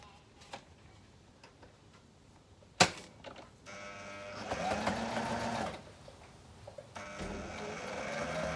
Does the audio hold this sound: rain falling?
no